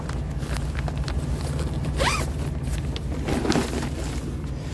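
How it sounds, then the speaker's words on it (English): A tactical body armor carrier bag's zipper is drawn open with a quick rasping pull, followed by a second shorter zip amid faint background rustle. "You got this one zipper."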